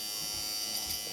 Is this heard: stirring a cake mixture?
no